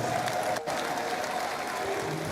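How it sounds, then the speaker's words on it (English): Dense, steady applause fills a hall at the official inauguration of the IYC 10th National Executive Council, greeting the president of INC, loud and continuous with a brief dip partway through. "A round of applause for the president of INC."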